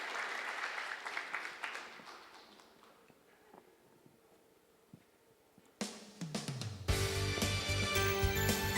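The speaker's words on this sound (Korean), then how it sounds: "박수 쳐주세요" A church congregation at a Sunday worship service applauds, with clapping from many hands that fades to quiet, followed by a sudden loud burst of music or instruments near the end.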